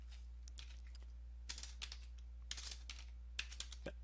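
Keys tapped on a computer keyboard while entering Windows 10 command-line repair commands, heard as quick clusters of sharp clicks with short gaps, close and fairly quiet over a low steady hum.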